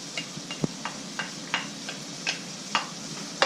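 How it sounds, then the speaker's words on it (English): Garlic dropped into a pan and stirred while making spaghetti with ground beef, a faint sizzle under a series of light, irregular clicks and scrapes from the utensil. "I'm also going to add the garlic. So the garlic goes in here."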